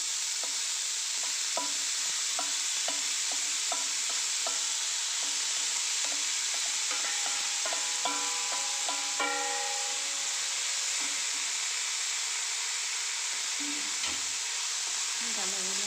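Banana flower stir-fry (koombu thoran) being stirred in a pan, a steady sizzle and hiss with repeated scraping and tapping strokes of the spoon, close and continuous with no talking.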